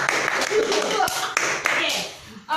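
An audience claps for the participants of a contest, a dense, steady wash of applause heard throughout with voices talking over it.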